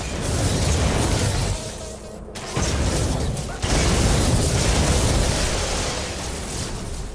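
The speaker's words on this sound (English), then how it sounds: "the good thing about the neutron cannon is the area effect" Neutron cannon area-effect blasts in a space video game, a loud, continuous roar of explosions with a short drop in the middle before the booming resumes.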